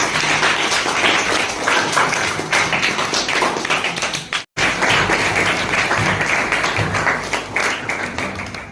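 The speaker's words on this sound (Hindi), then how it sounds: "एक बार जोरदार तालियों के साथ स्वागत करते।" Schoolchildren at a Saturday bagless-day classroom quiz game clap loudly in welcome, a dense continuous burst of applause that cuts out for an instant midway, then resumes at full strength.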